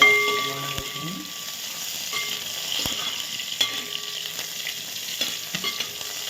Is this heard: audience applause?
no